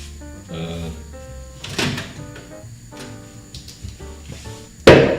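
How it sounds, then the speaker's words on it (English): Light kitchen cupboard doors yanked open too hard, giving a sharp bang near the end after quieter bumps and clatter, with a person talking over the kitchen noise. "I'm too big, the doors are too small and too light, so I sometimes open them too hard by accident."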